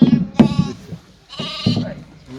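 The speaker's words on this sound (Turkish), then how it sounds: "Kuzular burada." Sheep and lambs bleat several times nearby, wavering calls overlapping one another, with a low hum in the background, inside a barn.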